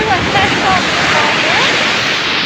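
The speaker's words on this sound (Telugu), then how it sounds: "చాలా పెద్ద పెద్ద కెరటాలు వచ్చేస్తున్నాయి" Big waves crash on shore at a Ganesh idol immersion, a loud continuous roaring surge blended with wind buffeting the microphone.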